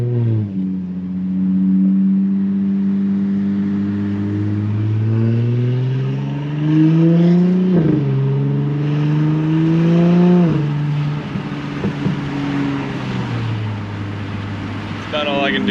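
An Audi B9 S4 fitted with an Integrated Engineering downpipe exhaust pulls hard through several rising gear runs. The loud, close engine note climbs and drops at each shift, with a person talking over parts of it.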